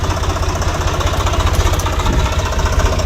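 A tractor engine running close by, a loud steady low throb with a rapid chugging pulse throughout, no voices.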